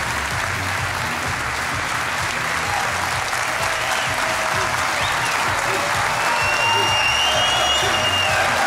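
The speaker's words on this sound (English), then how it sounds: "We line a round of applause for these guys." Sustained crowd applause fills an arena at a CS:GO championship grand final during the second-place presentation, a dense, steady wash of clapping with faint cheers and whistles rising near the end.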